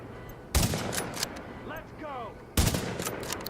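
Gunshots striking an enemy in The Division: two loud, sharp reports land about two seconds apart, each with a short tail, separated by a quieter stretch with a faint warbling tone.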